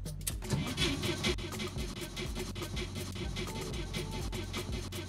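A van starter cranks in a video game, a quiet, rapid, rhythmic churning that keeps going without the engine catching, with some faint clicks mixed in.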